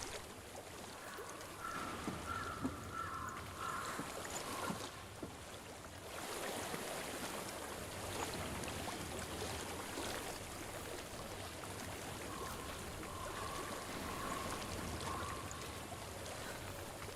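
A flowing stream in the Hellblade: Senua's Sacrifice game world, a continuous soft wash of moving water with faint tonal ambience drifting over it, steady and moderately distant.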